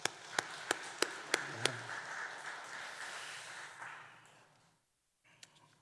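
A church congregation at a Sunday morning service breaks into applause: a few separate claps, then a steady wash of clapping that fades out, and a couple of stray claps after a short silence.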